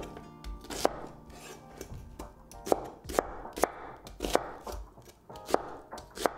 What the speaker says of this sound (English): Then rotate to cut into small pieces.